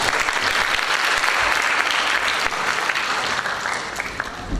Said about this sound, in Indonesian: Itu tepuk tangan kepada orang tua semua.